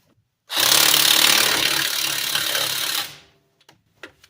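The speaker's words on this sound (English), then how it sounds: "with battery powered impacts, you can hear the change in tone from when it's spinning to when it stops spinning" A battery impact wrench whirs loudly at close range for a few seconds, its tone shifting as it winds down and stops, followed by a few light clunks, during U-joint and axle seal work on a 1998 Ram 1500.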